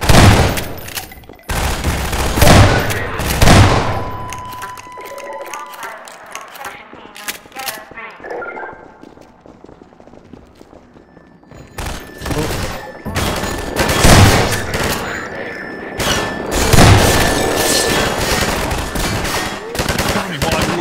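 Gunfire in Half-Life 2, repeated loud bursts of rapid automatic fire and single shots, with quieter gaps between volleys.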